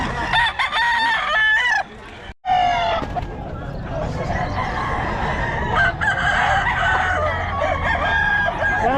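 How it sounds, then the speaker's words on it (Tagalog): Roosters crow repeatedly at a small roadside chicken seller's stall near a tricycle parking area, loud nearby calls mixed with clucking and background chatter. "Quality manok"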